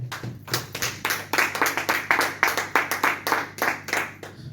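A church congregation applauds in a steady, rhythmic clap, many hands beating together at a moderate tempo, close and fairly loud.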